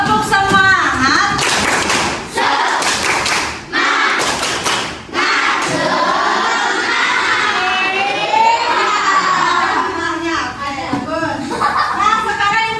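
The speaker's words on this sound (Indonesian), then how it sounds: "Coba sebelum mulai kita tepuk semangat dulu biar kita lebih semangat." Schoolchildren in an Indonesian classroom clap the rhythmic tepuk semangat spirit clap together, loud patterned bursts of hand claps mixed with children's voices and chatter.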